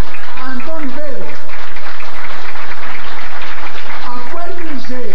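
A loud, continuous wash of audience clapping fills the room while a voice speaks over it in Spanish at a celebration of a singer.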